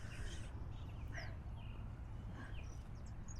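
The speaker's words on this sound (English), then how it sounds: "you're quite a sweet little bird" A small bird calls in a botanical garden in Buenos Aires, with several short, faint chirps scattered over a steady low outdoor rumble.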